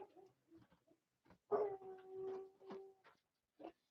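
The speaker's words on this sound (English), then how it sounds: "my dogs are barking at the new neighbors" A dog barks and howls in short bursts, with one long drawn-out howl in the middle, fairly close, with brief yips and whines around it.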